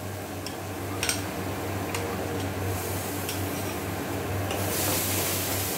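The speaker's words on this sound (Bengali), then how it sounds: "পোস্তটা এই পুরো মশলার সঙ্গে ভালোভাবে নেড়ে মিশিয়ে দেবো এবং কষিয়ে নেব" Ground poppy seed paste being stirred into mango masala in a wok, with soft scraping and stirring and a few sharp ticks of a utensil against the pan over a steady low hum.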